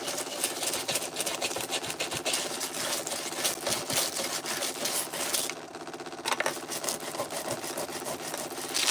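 A scrub brush rubbed rapidly back and forth over foil on a wooden surface, a dense, continuous scratchy rasping at close range, briefly easing midway and then resuming, with no speech.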